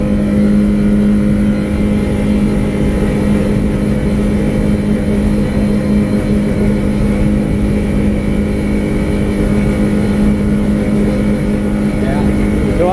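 2019 Oprey 162 boat with its outboard engine hitting the rev limiter: a loud, steady, close engine roar with wind and water noise throughout, no clear separate limiter stutter.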